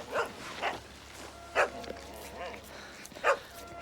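Sled dogs giving four short, sharp barks spaced unevenly, fairly close and moderately loud, with quiet whimpering between them.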